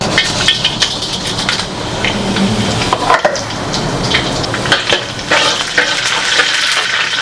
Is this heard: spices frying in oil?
yes